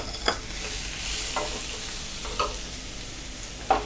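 Chopped onions sizzle steadily in a pan for egg masala, with a few scraping stirs of a utensil breaking through the frying hiss.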